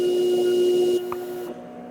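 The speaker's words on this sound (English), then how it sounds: "we print it again just to make sure that we're on the right setting" A DTF transfer printer runs a print pass with a steady, loud mechanical whir and hum that cuts off about halfway through, followed by a small click and a quieter residual drone.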